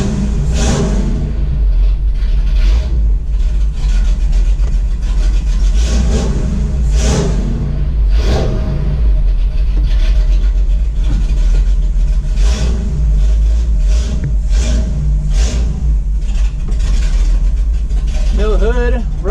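A rebuilt Ford 390 V8, running without a hood on a rough tune, drives on the road with a loud, steady engine rumble and rising revs throughout, while a voice talks over it.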